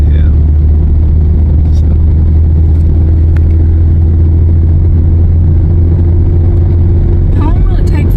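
A car drives along a road in Booneville, Eastern Kentucky, during a 2025 flood, with water coming up over the roadway. Its engine gives a steady low rumble throughout, and people talk briefly over it.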